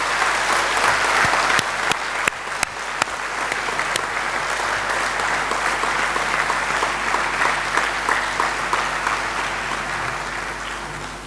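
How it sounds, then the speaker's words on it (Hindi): A large audience at IIT Kanpur's Independence Day celebrations gives loud, sustained applause for a group of performers, steady dense clapping with a few sharper claps standing out, lasting the whole stretch. "एक अंतिम बार इस पूरे ग्रुप का, कलाकारों का तालियों से जोरदार अभिवादन किया जाए"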